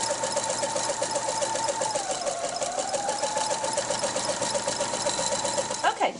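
A sewing machine stitches a rolled and whipped entredeux seam, its needle making a fast, even, mechanical chatter that runs steadily up close before a brief change near the end.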